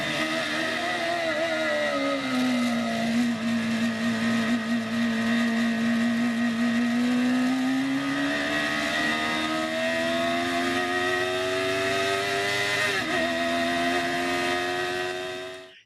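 A Geo Metro race car with a swapped mid-mounted Honda CBR motorcycle engine, a high, sustained whine that sweeps through gears as it passes, loud and continuous before cutting off at the end.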